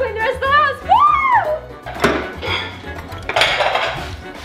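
Household dishes and cutlery clatter and clink while being washed and put away in a home kitchen, with a voice sounding at the start, then a run of close, fairly loud scraping and clinking in uneven bursts.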